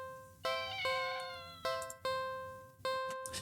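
A cat meowing in a video game, about five sharp, tonal cries starting abruptly and fading away, each one close and clear over a quiet background, with no talk.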